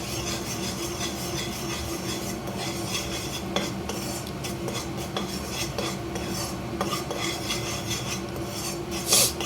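A spoon or spatula steadily scrapes and stirs bubbling jaggery and ghee in a pan for popcorn, making continuous close rasping, clinking and faint sizzling throughout, with no voices.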